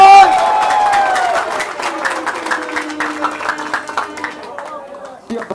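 A crowd at a rap battle in a Philippine bar applauds and cheers, loud at first and then tapering into scattered clapping and calls, with a voice over the noise early on.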